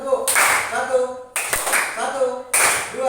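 A group clapping a scout clap routine in a classroom, three rhythmic bursts of claps in short sets, with voices chanting the count along with them.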